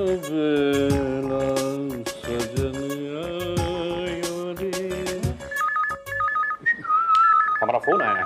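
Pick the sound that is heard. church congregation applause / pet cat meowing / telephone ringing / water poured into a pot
telephone ringing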